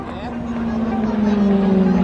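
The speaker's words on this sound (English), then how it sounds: "that engine you can hear is a 1600 horsepower Pratt & Whitney PT60" A 1600-horsepower Pratt & Whitney PT6 turboprop engine at an airshow drones with a sustained propeller hum that slowly rises in pitch, loud and continuous.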